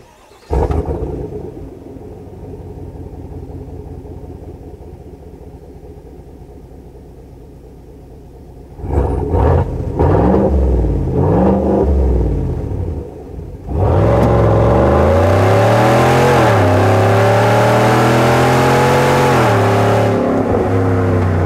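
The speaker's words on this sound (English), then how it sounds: "this has a mean, deep, traditional V8 bellow" A 2020 GMC Sierra AT4 pickup's 6.2L V8 with high-performance cat-back exhaust idles with a deep, burbling bellow, then is blipped in a few sharp revs before roaring loudly into a sustained high rev.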